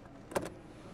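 The power folding side mirrors on a 2024 Renault Triber give a single short, quiet electric motor whir lasting a fraction of a second in an otherwise hushed car.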